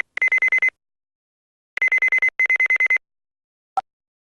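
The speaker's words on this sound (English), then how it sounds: "Looks like I have a phone call." A telephone in Ace Attorney: Dual Destinies rings in three rapid electronic trill bursts with short pauses between them, loud and alone, then a single brief click.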